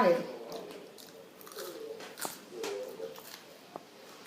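Crisp potato chips, served with fries and a black pepper paprika mayonnaise sauce, are crunched up close, with irregular bites and chewing spread through the stretch and quiet gaps between.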